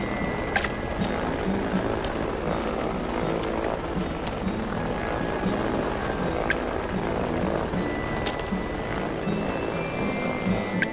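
A helicopter in the video game Helheim Hassle produces a steady, droning rotor and engine rumble that continues without a break, with faint clanks and other game sounds layered over it.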